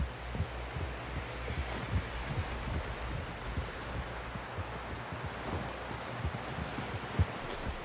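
Horse hooves plodding at a walk in Red Dead Redemption 2, a steady stream of soft, dull clip-clops over a rustling outdoor ambience, with no voices.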